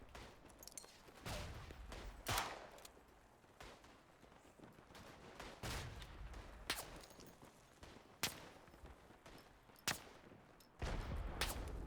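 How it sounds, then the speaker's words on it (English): Artillery barrage in the WWI shooter game Tannenberg: repeated heavy booming impacts at irregular intervals, fairly loud, with rumbling between blasts and no talking. "Shit, artillery."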